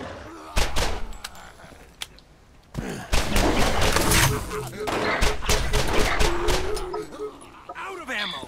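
Gunfire in the video game Borderlands, a run of sharp shots and bursts over busy combat noise, with a player voice talking across parts of it.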